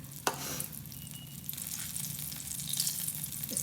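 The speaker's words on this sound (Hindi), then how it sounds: "यूं ही डाल के इसको फ्राई करेंगे।" Mashed-potato aloo pakora frying in hot oil gives a steady, close sizzle with crackling bubbles throughout, with no talking.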